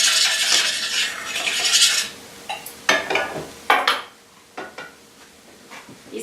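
Metal tongs scrape and clack against an All-Clad pan while shrimp are tossed in oil for pesto shrimp with zucchini noodles: a faint sizzle fades, followed by several separate sharp metallic clinks close by.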